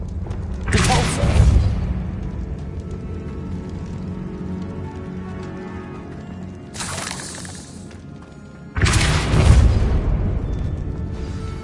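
Repulsor spell blasts in a Harry Potter-style video game, two loud bursting impacts with a shattering, whooshing crack, each followed by a rumbling low tail, separated by a quieter stretch of ambient game sound.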